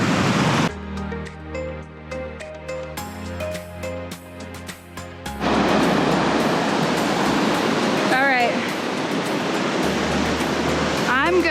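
A creek flows near a waterfall as a broad, steady rushing roar that swells in after a stretch of music, with brief chirping calls over the water noise.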